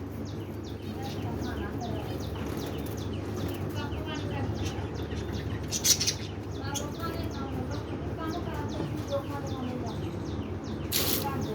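A pet budgerigar chirps in rapid, repeated high tweets across the whole stretch, fairly close, with a couple of sharper bursts standing out over a low indoor background hum.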